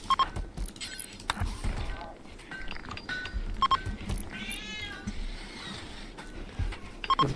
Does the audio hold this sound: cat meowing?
yes